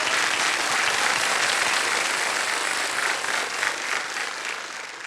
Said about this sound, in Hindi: एक बार तालियां बज जाए उनके लिए, पिताश्री के लिए।